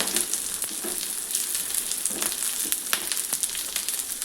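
Green beans frying in hot oil in a kadai, a steady close sizzle with faint crackles and occasional scraping stirs.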